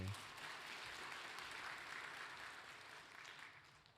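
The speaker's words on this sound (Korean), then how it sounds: "박수해 주시겠어요?" Church congregation at a Sunday morning service applauding together, a steady wash of clapping that holds at moderate level throughout and fades slightly toward the end.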